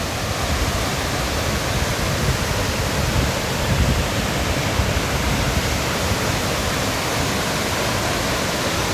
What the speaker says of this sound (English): It's a huge waterfall.